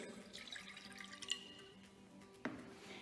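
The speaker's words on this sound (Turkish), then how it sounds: "suyumuzu kabımızın içine döküyoruz" Water poured into a bowl for a classroom hand-hygiene experiment: a faint, quiet trickle and splash with a few soft drips, ending in a small distinct plop.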